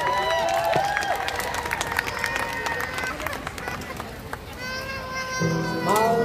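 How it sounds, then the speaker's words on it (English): Audience applause and cheering after an aerial hoop act at a live performance, a busy wash of clapping mixed with voices and shouts, then tonal music begins to come in near the end. "applause for Jodie on the aerial hoop."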